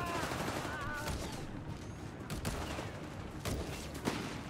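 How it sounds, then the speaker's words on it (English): Heavy automatic BAR fire in Company of Heroes 3 rattles in bursts amid a dense battlefield din of other gunfire and explosions, moderately distant, with a commentator speaking over it. "North Panzer is held down here by some heavy automatic bar fire"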